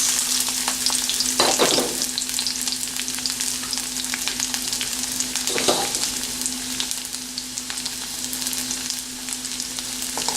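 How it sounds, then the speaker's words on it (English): Curry leaves and finely chopped garlic fry in hot oil for an okra curry, giving a loud, steady close-up sizzle with a constant hum underneath and a couple of brief stirring scrapes. "First I'm going to put curry leaves, then finely chopped garlic"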